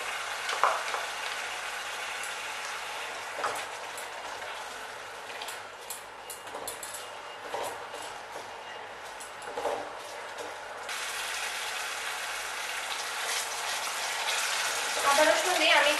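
Ginger garlic paste added to fried onions in a pan for a rohu fish and yogurt curry, giving a steady broad sizzle that swells near the end, with faint stirring clatter.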